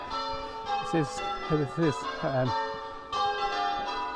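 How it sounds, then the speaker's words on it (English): Church bells ring on a Sunday morning in Ingatestone, England, sounding a sustained, resonant peal with repeated strikes, while someone speaks briefly over them outdoors. "the church bells are going now"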